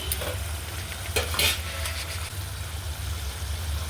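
Indian gooseberries (amla) frying in a pan, a steady broadband sizzle with occasional stirring scrapes and a few brief louder spatters near the start, close and continuous with no talking.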